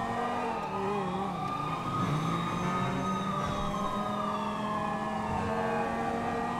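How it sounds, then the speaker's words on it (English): A CHP police siren from a modded Grand Theft Auto police game wails continuously with rising and falling tones, loud and steady over the low rumble of a vehicle. "This is a conversion of my CHP siren that I released on LSPDFR."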